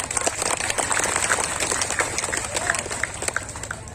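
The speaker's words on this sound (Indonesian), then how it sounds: "Saya minta tepuk tangan dulu dong" Audience at a religious gathering clapping, a crowd's dense patter of applause with voices talking through it.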